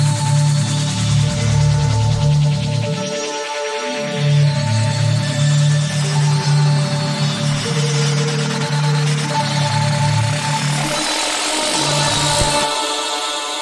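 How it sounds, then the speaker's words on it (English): Electronic track intro: a deep sub bass rumbles steadily beneath reverb-washed sustained pads, with rising sweeps across the top. The bass drops out briefly twice before returning. "I actually have a reverb on the sub bass at the intro."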